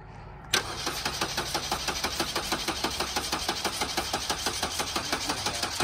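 An engine on a 2023 Ford, Pontiac or Can-Am vehicle cranks with a fast, even, rhythmic chugging from a starter motor after an abrupt start, continuing for several seconds without catching, close up.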